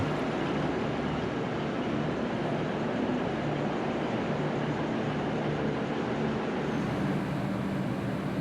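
A V/Line VLocity train, Unit 55, gives off a steady, even rumble of running noise with no voices and no break for the whole stretch.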